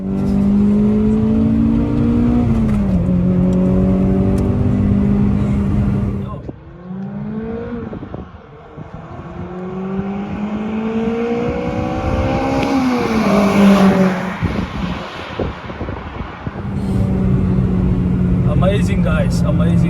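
Toyota Corolla RSi 20-valve accelerating hard through the gears, engine climbing toward high revs, dropping briefly at each shift, then pulling again, loud and close with someone talking over parts of it.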